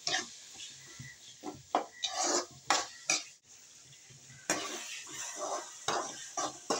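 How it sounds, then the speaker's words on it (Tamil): Onions and tomatoes sautéing with salt and turmeric in a pan for a spicy fish curry, with rhythmic close stirring and scraping strokes over a soft sizzle and a brief pause partway through; no talking. "உப்பும் மஞ்சத்தூளையும் சேர்த்துடலாம், சேர்ந்து வதங்கும்."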